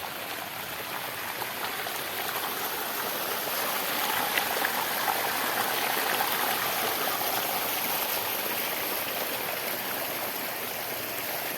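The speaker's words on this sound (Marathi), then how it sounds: "पाण्याला पण प्रेशर बघा का आहे किती जोरात पाणी फेकते" Water gushes forcefully under pressure into a muddy pond, a steady broadband rushing and splashing that stays loud and continuous with no voices over it.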